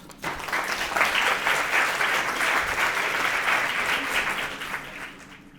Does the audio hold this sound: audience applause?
yes